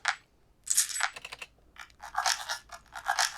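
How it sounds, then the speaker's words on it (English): Rhythm glitch samples from an electronic music track: quiet bursts of crisp, clicky, stuttering noise in irregular rhythmic clusters, with no talking. "These are like rhythm glitches."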